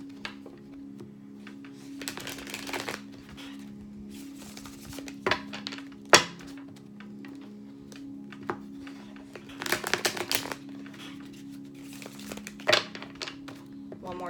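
Tarot cards shuffled by hand in bursts of crisp riffling and soft slaps, scattered across the stretch with a sharp snap near the middle, over a steady low room hum.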